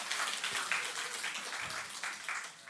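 An audience at a church testimony event applauds together, a brief steady patter of many hands clapping at moderate volume, fading slightly at the end.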